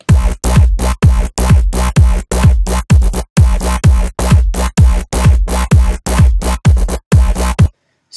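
Layered synthesized Reese bass, run through a filter, tube distortion and EQ, plays as loud, gritty stabs in a steady rhythm of about fourteen hits, then stops near the end.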